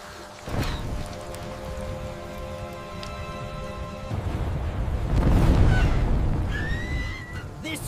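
Steady rain in a stormy scene around a small cat's home, a broad continuous wash that swells louder and rumbles deeper midway, like distant thunder, with faint voices and effects over it.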